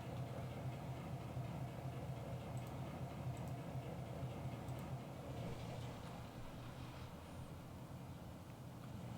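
Train rumble in a railroad operations video game, a quiet steady low drone with faint rolling texture holding evenly throughout, soft and distant with no talk.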